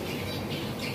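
Birds in Athens, Greece squawk in a dense, harsh, continuous racket, loud and close, with no talk over it.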